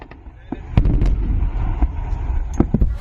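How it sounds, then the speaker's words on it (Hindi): Artillery shells fire during an Indian military exercise, with five or six sharp, loud booms at irregular intervals over a few seconds and a low rumbling background between them. "इसमें आपको तोप दिख रही है, ड्रोन्स कैसे फोड़े जा रहे हैं, कैसे गोले दागे जा रहे हैं"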